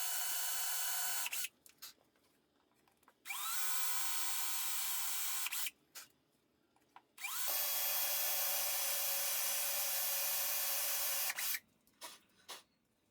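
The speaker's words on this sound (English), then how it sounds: "so I use the 4mm drill bit to drill the holes." A power drill with a 4mm bit whirs in three long bursts separated by short pauses, spinning up and biting into a wooden shelf, close and loud with no talking.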